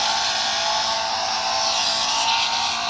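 A car being driven smoothly, with a steady, loud roar of engine and road noise that holds evenly for the whole stretch and has no talking over it.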